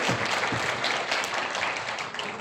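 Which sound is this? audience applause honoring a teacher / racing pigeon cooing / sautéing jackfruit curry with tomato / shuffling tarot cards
audience applause honoring a teacher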